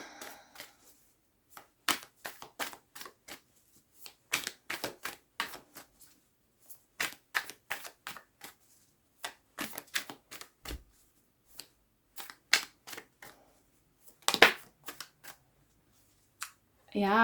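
Tarot cards are shuffled by hand, giving long runs of quick, crisp flicks and riffles with short pauses, mostly on their own and with a faint sound at the very end.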